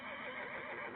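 A single horse neigh in the form of a sound effect, a loud wavering whinny that fills the whole moment with nothing else heard.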